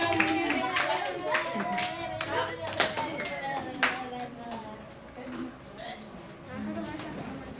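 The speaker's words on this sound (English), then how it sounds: "Y'all better give her an applause too." Students in a math classroom clap for a classmate, a loose scatter of sharp handclaps that thins out and fades while people talk over it.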